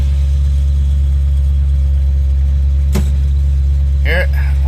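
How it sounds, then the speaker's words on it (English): A Mustang's engine idles with a loud, steady low rumble throughout, not yet fully warmed up, and a person speaks briefly near the end. "it's kind of loud in here because the car hadn't fully warmed up"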